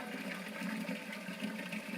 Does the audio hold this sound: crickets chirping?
no